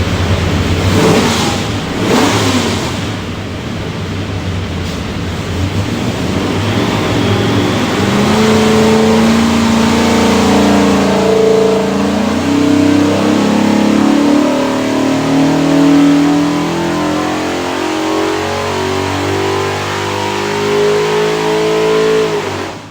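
A 570 hp 427 ci small block Ford with a custom-grind hydraulic roller cam, built for a Backdraft Racing Cobra, runs on a dyno. It rumbles loudly up close, then revs in a long, steady rising pull. No one speaks.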